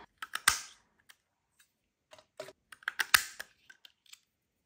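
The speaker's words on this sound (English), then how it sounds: "I'm going to use my little circle punch for that" Small circle paper punch cutting round paper pieces, a few sharp close clicks and snaps in irregular bursts with quiet gaps between.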